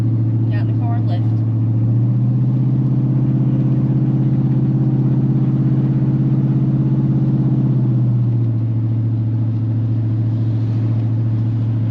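Cabin of a freshly lowered Chevy squarebody truck on its first shakedown run on the road, with a steady loud low engine drone and hum that shifts pitch a couple of times, while a voice speaks over it.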